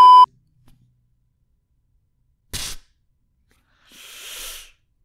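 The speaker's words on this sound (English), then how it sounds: "Oh, I gotta beep that out." A short, loud pure-tone beep at the very start, followed by silence, a brief burst of noise, and a softer hiss near the end.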